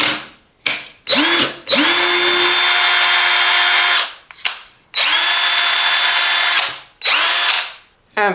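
A Parkside 20V PABS 20-Li G8 cordless drill driver whirs in several bursts, spinning up and stopping repeatedly with short pauses between runs, loud and close.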